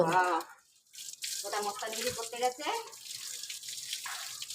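Water splashes and trickles while a dog is being bathed, close and fairly quiet, with a person talking briefly at the start.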